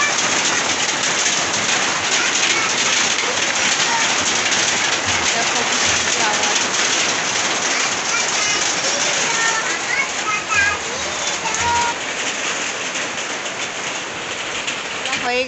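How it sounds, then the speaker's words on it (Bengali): Heavy rain pours down steadily and loudly, a dense close wash of water noise that never lets up, with a few bird calls breaking through faintly. "তো বৃষ্টি পড়ছে, দেখো কি জোরে জোরে বৃষ্টি পড়ছে,"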